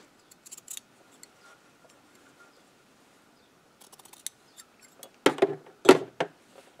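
Scissors trim excess fabric from a scrub cap with a ponytail: sparse quiet snips at first, then a few sharper, louder cuts near the end, close by with no talk.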